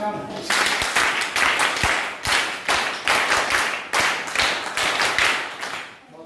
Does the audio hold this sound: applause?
yes